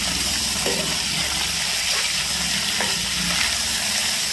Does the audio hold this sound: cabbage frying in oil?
yes